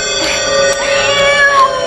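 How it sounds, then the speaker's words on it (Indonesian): A cat meows in a drawn-out, wavering cry, loud and close, with sustained tonal background beneath it and no talking. "Kucing?"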